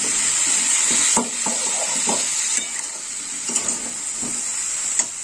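Green chili paste added to a frying cauliflower and carrot curry, giving a continuous bright sizzle with repeated soft stirring knocks and scrapes, close up and with no voices.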